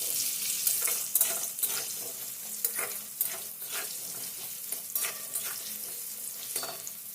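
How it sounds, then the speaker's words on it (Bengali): Sliced raw green banana frying in a covered wok, uncovered and stirred: a continuous sizzle with repeated scraping and clinking strokes of the spatula, close and fairly loud. "2 মিনিট পর কড়াইয়ের ঢাকনা খুলে আলুটাকে আবারও আমি নেড়েচেড়ে নিচ্ছি।"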